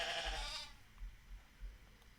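A sheep bleats once, a short, fairly loud wavering cry followed by quiet low thumps.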